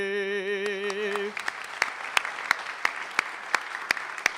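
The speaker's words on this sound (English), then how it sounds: "Let's give them both another round of applause." Applause from an outdoor crowd follows the last sung note of the national anthem at a Brooklyn Pride Week flag-raising ceremony, with scattered, distinct hand claps continuing steadily after the singing stops.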